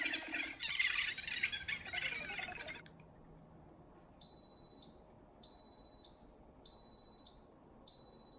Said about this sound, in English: my Instapot just beeped 10 times